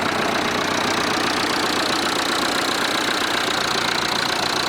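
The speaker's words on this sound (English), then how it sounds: "This is Farmer Mark's very old red tractor." A very old red tractor's rough, steady engine idles continuously at close range, a noisy mechanical rumble with no pauses and no voices.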